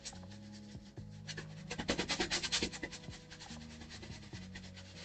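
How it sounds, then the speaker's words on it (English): A paintbrush scrubs paint into a canvas up close, a quiet dry rubbing and scratching in quick repeated strokes that swell in the middle, with faint background hum. "Just kind of scrubbing this brush into the canvas."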